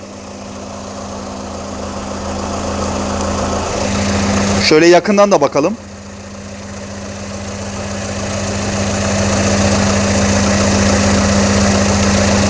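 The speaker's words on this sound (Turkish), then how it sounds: "Evet motorumuz bu şekilde gayet güzel de çalışıyor." A freshly rebuilt car engine idles with a steady, even hum and mechanical rattle; someone speaks briefly partway through as the engine keeps running.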